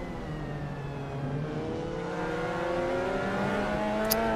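Onboard a Mazda MX5 race car lapping Cadwell Park, the engine drones steadily and climbs in pitch as it accelerates through the gears, heard fairly faintly from inside the car with no talking.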